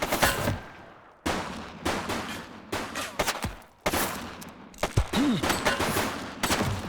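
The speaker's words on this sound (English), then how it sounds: "She's shooting!" Gunshots in The Precinct police game, several sharp separate bursts of fire with short gaps between them, fairly close and moderately loud, with a brief whistle-like sound partway through.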